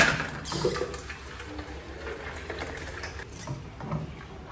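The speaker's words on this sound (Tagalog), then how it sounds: "Tapos lagyan natin ito ng tubig." Water pours steadily into a jar holding bitter gourd to soak it, a soft, fairly quiet splashing with a brief louder burst near the start and no talking.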